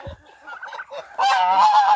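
A farmyard goose, part of a small flock after light rain, gives loud close honking calls, a few short nasal notes first and then a sustained harsh burst of honks near the end.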